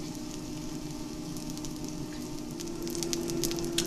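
A pancake cooking in a frying pan gives a steady, soft sizzle over a low hum, close by and fairly even, with a few brighter crackles toward the end and no talking.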